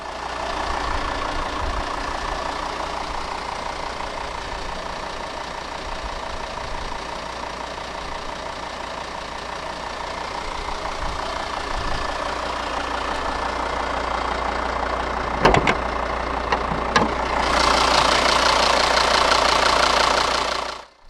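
A 2015 Volvo XC60 D4 AWD idles with its 2.4-litre turbo-diesel inline-five, giving a steady, close, knocking diesel rumble for about twenty seconds, with a few sharp clicks and a brighter hiss joining near the end.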